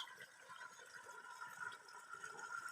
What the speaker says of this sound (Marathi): हा पाण्याचा प्रेशर येतोय मित्रांनो तीन एच पी इकोजन आयकॉन सोलर पंपाचा